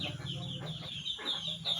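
Young chickens cluck and peep nearby in a small backyard flock, a run of rapid, high, chirpy calls repeating over a low rumbling background.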